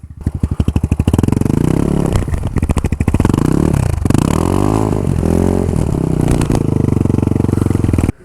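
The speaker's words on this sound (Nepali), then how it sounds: "सेरेको टायर झन् कस्तो घुम्ने हो त यहाँ" A motorcycle struggles up a rough, steep trail near Sundarijal, its engine revving hard and loud throughout while the tyre spins and scrabbles for grip, with rising and falling throttle surges and clattering from the loose surface.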